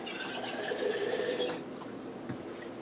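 Water pours into a Ninja Foodi pot for a second and a half, a close gurgling splash that stops, leaving faint kitchen quiet and a small clink.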